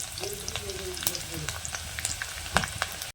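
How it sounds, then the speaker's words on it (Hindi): Close, steady sizzling of garlic cloves frying in hot oil, with crackles and small pops throughout. "अब लहसुन को भी तेल में डाल देंगे भुनने के लिए"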